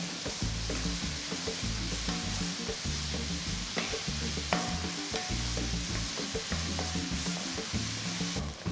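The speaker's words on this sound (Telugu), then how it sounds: "ఉల్లిపాయలు కొంచెం గోల్డెన్ కలర్కి రావాలండి అంతవరకు దీన్ని కొంచెం బాగా మనం వేయించుకోవాలి" Onions frying in a pan until golden for a curry-leaf chicken fry, a dense continuous sizzle with steady rhythmic stirring scrapes and occasional clinks, close and even throughout, no voices.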